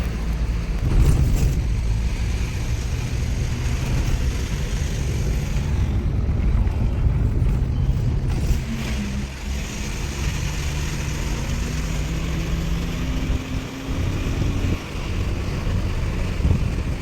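A Tata Safari Storme on a trial drive with a black smoke, knocking and pickup fault on cylinder 1, its engine and road rumble droning steadily with wind noise throughout, no voices.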